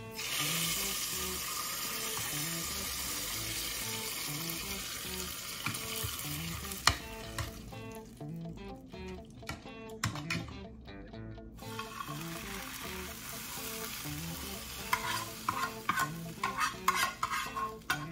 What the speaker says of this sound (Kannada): ಒಗ್ಗರಣೆ ರೆಡಿ ಮಾಡಿ